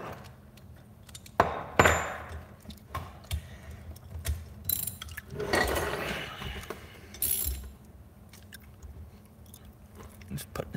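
A socket wrench ratcheting on a Predator 212 small engine during reassembly, with close clicking pawl sounds, clattering tool handling and bursts of metallic rattle under steady workshop background.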